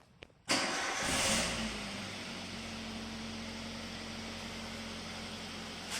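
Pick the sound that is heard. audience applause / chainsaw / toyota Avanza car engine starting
toyota Avanza car engine starting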